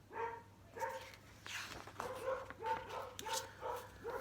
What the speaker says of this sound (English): There's lots of dogs barking.